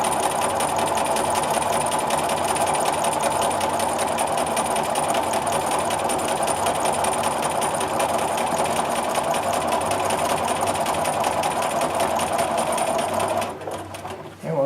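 A sewing machine stitches horizontal quilting lines along a grid, running in a steady, continuous, close-up whir for about thirteen seconds before stopping briefly near the end.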